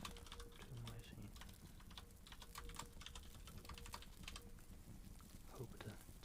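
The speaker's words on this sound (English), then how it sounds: "Hope the typing ASMR isn't too loud." Typing on a computer keyboard during an ASMR stream, with a steady patter of crisp key clicks running throughout and a faint voice at times underneath.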